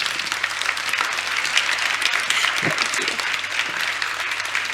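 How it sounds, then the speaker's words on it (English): Sustained audience applause at a climate change summit session, a dense, steady wash of many hands clapping that holds loud and even throughout. "let's give a big round of applause"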